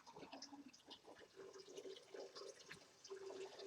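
Hot wort draining out of a lifted bag of grain during a mini-mash home brew, trickling and splashing steadily with small drips, faint and close, no talking.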